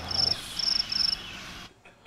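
Crickets chirp in short bright pulsing bursts, three clear trills in a row over a soft hiss, then cut off abruptly into near silence.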